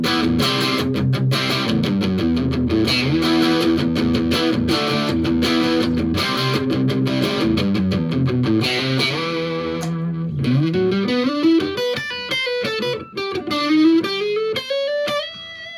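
Electric guitar played through a Tiny Marshall JMP amp with the contour turned fully right, driven chords and riffs followed by a rising run of single notes, steady and loud throughout.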